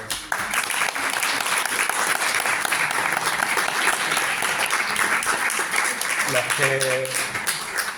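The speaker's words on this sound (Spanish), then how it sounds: "pedir un aplauso tremendo para todos los intérpretes que están en las cabinas" A conference audience gives sustained applause for the interpreters working in the booths, a loud, even roar of many clapping hands, with a voice speaking briefly near the end.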